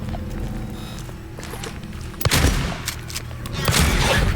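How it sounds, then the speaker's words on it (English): Shotgun blasts in the horror video game Silent Hill 2: a sharp boom near the middle, then heavy thuds and footsteps amid a dark rumbling ambience, loud and close. "Shotgun time"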